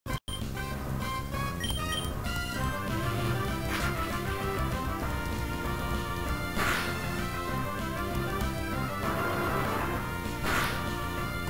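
Busy Pokemon Ruby battle audio: layered tones and music with sharp impacts and crunching hits of a Rock Throw attack, some whooshing bursts, no talking.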